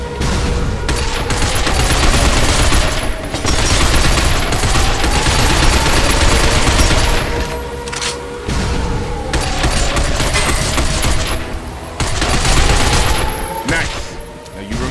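Gunfire in the shooter video game Binary Domain: loud, dense bursts of automatic fire with booming impacts, coming in long sustained volleys separated by brief lulls.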